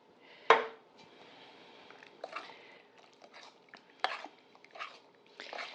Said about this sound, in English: We're going to take all of this and mix it all together.